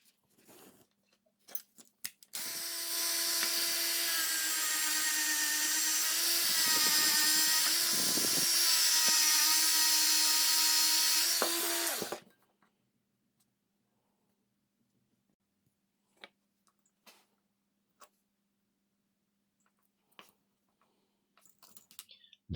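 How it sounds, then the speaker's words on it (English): A high-pitched power tool sanding and polishing a Corgi Ford Thames model car whines steadily for about ten seconds, its pitch dipping briefly under load, then cuts off, leaving faint scattered taps and clicks. "So I'm gonna be doing a bit of sanding and polishing."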